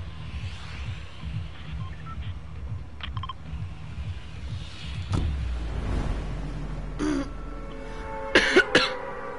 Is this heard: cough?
yes